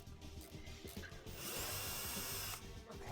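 A power drill bores holes into a home wall for drywall anchors, its whine rising and steadying through the middle stretch, fairly faint and heard somewhat from a distance over a low rumble.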